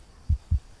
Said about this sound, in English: Hearing my heartbeat.